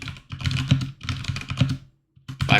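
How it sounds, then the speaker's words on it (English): Fast bursts of clicking keystrokes on a computer keyboard, close and crisp, come in quick rhythmic runs broken by brief pauses, with no talking. "this is going to be quite a long typing exercise for me"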